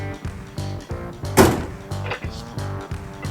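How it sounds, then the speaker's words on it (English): A single loud thunk as a tool drawer slams shut, amid rhythmic mechanical thumping and rattling nearby. "You guys heard the drawer slamming"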